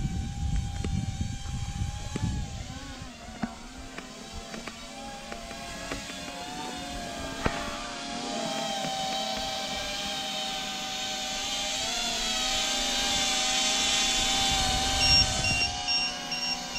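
A Cinewhoop FPV drone (Smooth Vortex) flies with a continuous high-pitched propeller whine that rises and falls in pitch as the throttle changes. It is steady and moderately loud throughout, with no talking.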